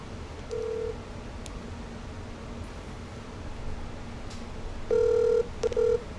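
Faint, quiet room hiss carries a short beep, then louder electronic telephone tones near the end, broken into two bursts like dialing or a ring.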